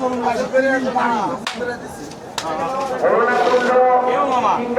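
Cattle low nearby in drawn-out moos at the Shahjahanpur cattle market in Bangladesh, mixed with busy chatter from several people and a couple of sharp knocks.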